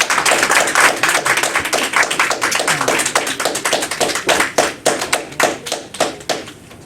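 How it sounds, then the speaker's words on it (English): Sustained applause from a crowd honoring a student minister at a gathering, dense clapping at first, then thinning into scattered individual claps before fading out. "please put your hands together and give a rousing applause for our student minister of the day"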